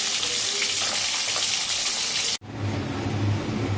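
Oil sizzles steadily in a pan while eggs are fried until deep red-brown, with a broad hiss that stops abruptly for a split second before resuming.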